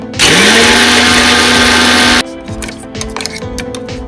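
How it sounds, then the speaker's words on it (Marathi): A mixer grinder grinding garlic, ginger and coriander whirs loudly, its motor rising quickly to a high steady whine for about two seconds, then stops, leaving faint clatter. "लसण आणि अद्रक मिक्सर मधून बारीक करून घेऊया"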